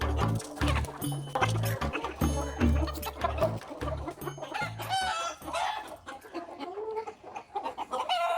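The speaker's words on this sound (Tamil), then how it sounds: "பாருங்க ரதியம்மாவோட கோழி." Native country chickens clucking and crowing around a village house under construction, a busy cluster of close, overlapping clucks and calls with no talking.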